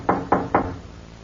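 Three firm, evenly spaced knocks on a door in a 1940s espionage radio drama, close and distinct, then quiet.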